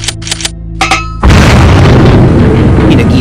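A grenade explosion in a military combat setting: a sudden heavy boom erupts after a few short sounds and rolls on as a loud, dense rumble to the end.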